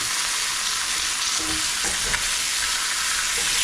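Food for dinakdakan, fried rather than grilled, sizzles and crackles loudly in a hot pan, a continuous hiss with occasional scrapes of stirring.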